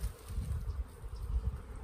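Bees of a mixed, hybrid breed buzzing around traditional log hives: a continuous, close, low droning hum with swelling and fading pulses as insects fly near.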